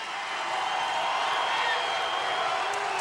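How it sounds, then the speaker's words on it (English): Arizona Wildcats fans cheer at a college basketball game against UConn, a steady, distant crowd roar that swells slightly and holds throughout. "And the Wildcat fans are making noise now."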